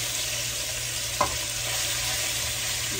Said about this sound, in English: I am now sauteing the pork